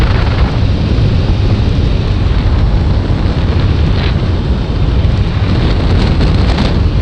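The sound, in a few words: heavy rain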